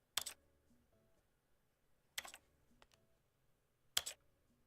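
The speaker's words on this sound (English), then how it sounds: "There's only clicking. Clicking and clacketing." Three separate bursts of sharp clicking and clacking inside The Stanley Parable game, each short cluster about two seconds apart, fairly close and alone against near silence, with no music or voices.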